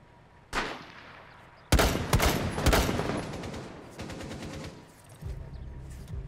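Gunfire in the video game Rainbow Six comes as one sharp shot followed by loud rapid bursts and a longer rattling volley that fades into quieter pops, close and dense.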